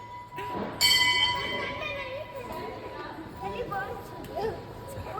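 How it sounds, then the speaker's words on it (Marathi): A temple bell rings with a bright metallic strike and a lingering tone, amid crowd chatter and voices at the busy Jivdani hilltop shrine in Virar. "जो तो येतो जो टांग घंटा वाजूनच चाललाय पुढे"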